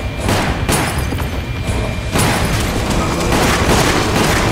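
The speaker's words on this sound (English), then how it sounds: "I need to definitely send my shotgun ammo against her." Shotgun blasts in Resident Evil Umbrella Chronicles, loud booming shots in quick succession mixed with dense game noise, continuous and close.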